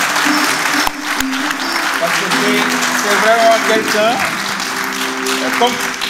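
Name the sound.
applause for the book's preface writer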